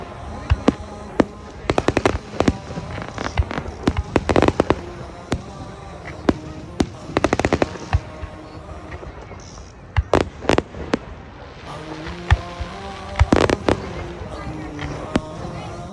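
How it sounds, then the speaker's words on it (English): Fireworks burst at night under a full moon at a park event, sharp cracks and booming pops firing in scattered clusters over a constant murmur of background voices. "fireworks under a full moon"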